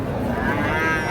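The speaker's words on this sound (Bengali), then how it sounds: "মাঝারি সাইজের ষাঁড় গরু।" A medium-sized bull moos in a long, steady, close call at a cattle market in Tangail, with faint background noise around it.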